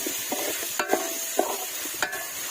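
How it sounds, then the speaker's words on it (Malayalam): Chicken and chopped tomato for Kerala-style chicken chukka are stirred in a sizzling pan, with a few sharp spoon scrapes and knocks over a steady, close frying hiss. "നന്നായിട്ട് ഇളക്കി യോജിപ്പിച്ച് കൊടുക്കുക"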